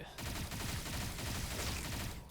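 Rapid automatic gunfire from emptying a weapon magazine in the Mycopunk video game, a dense, steady burst of shots lasting about two seconds before cutting off abruptly.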